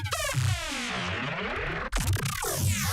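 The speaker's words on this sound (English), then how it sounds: "Buff Eater, because the plugin I made them with was called Buff Eater, glitchy sounds that sound like this" Glitchy synthetic sample made with the Buff Eater plugin: stuttering, pitch-swept buzzy tones that warble and chop, a brief dropout near the middle, then another burst of choppy, whirring texture.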